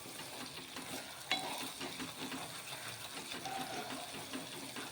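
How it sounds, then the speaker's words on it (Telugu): Chicken masala curry frying in a pan, a continuous low sizzle with soft stirring and one sharp utensil tap near the start, fairly quiet and close, no talking. "చూడండి ఇంకా కొంచెం 2 నిమిషాలు వేపుదామండి"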